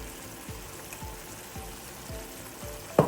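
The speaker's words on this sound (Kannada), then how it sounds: "ಇದೆಲ್ಲ ಹಾಕ್ಕೊಂಡು ಚೆನ್ನಾಗಿ ಫ್ರೈ ಮಾಡ್ಕೊಳ್ಳಿ" Chilli powder and coriander powder fry in oil for horse gram saaru, a steady crackling sizzle with rhythmic spoon scrapes about every half second, ending in a sharp clink.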